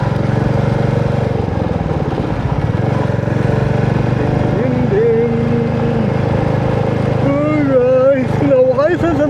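A motorcycle engine drones loud and steady throughout a ride on the road from Machilipatnam to Hamsaladeevi, with wind rumble. Someone talks over it, and a rising horn-like tone sounds briefly near the end.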